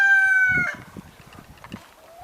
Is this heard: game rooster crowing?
yes